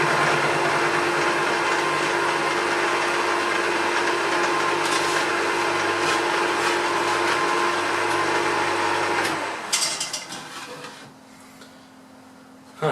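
In a home shed, a cutter machine runs steadily through a workpiece with a loud, even whirring grind, then cuts off and winds down near the end, leaving a quieter hum.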